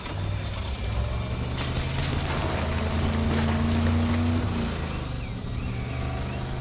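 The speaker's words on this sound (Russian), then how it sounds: "На катере выплывем сейчас." Motorboat engine in the demolition game Teardown, a steady droning hum with a rising whine that holds for several seconds, then drops away as the engine note fades near the end.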